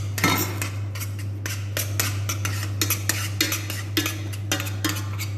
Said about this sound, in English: we take this spice blend, the tandoori one, and we mix now.